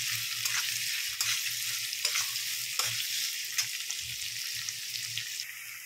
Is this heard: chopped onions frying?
yes